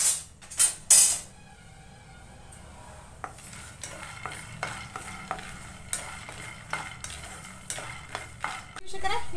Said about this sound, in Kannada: ಒಂದು ಸ್ವಲ್ಪ ಕಡಲೆ ಬೀಜ ಹುರ್ಕೊತೀನಿ